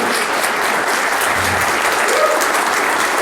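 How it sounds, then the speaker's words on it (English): An audience at the Monster Bash 2019 convention claps in a dense, sustained round of applause, loud and even throughout, with no talking over it. "Round of applause for this guy."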